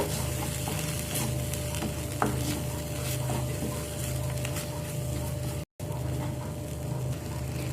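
Spice mixture of coriander, chilli and turmeric powder sautéing in a pan for vegetarian matar paneer, a steady close sizzle and fry with occasional stirring scrapes throughout, no talk.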